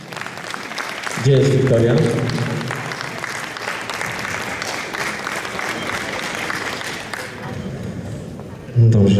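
Audience at an anniversary award ceremony claps in two bursts, loud and close, with a voice speaking over the middle stretch between the rounds of applause.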